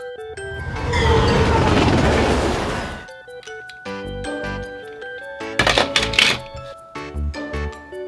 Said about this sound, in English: Blue Cover Thomas Train.